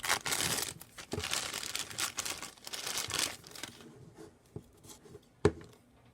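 Crinkly plastic bag rustles and crumples up close as a toy dinosaur figure is removed, loud at first, then tapering into a few scattered crackles and soft taps.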